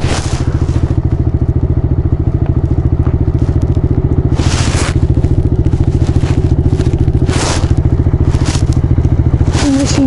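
A larger quad bike idles and pulls away next to a kid's Kayo 110 quad, its engine a loud, close, steady low throbbing chug for ten seconds, punctuated by several bursts of rushing, gusty noise.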